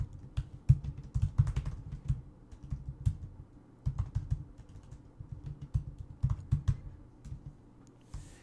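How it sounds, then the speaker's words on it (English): Close, quick keystrokes on a computer keyboard, coming in bursts of typing with brief pauses between words. "So I will type in something"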